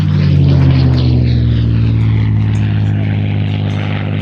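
The Russian Spitfire, flown by Peter Teichmann, passes low at a Midlands airshow, its piston engine a loud, steady, deep propeller drone with a slowly shifting pitch, heard alone throughout.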